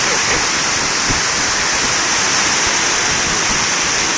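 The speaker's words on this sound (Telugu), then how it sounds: "వాటర్ దుంకుతూ ఉన్నాయి సార్." Water pours and rushes steadily during a trial run at the Koilsagar Stage-I irrigation project, a loud, unbroken roar of falling water with no pauses.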